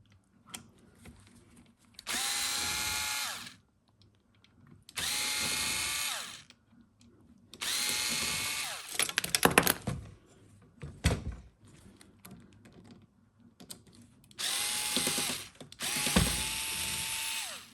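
A screwdriver backs screws out of the side plate of a 3D printer in several separate bursts of whirring and ratcheting, close and loud, with quieter handling sounds between them.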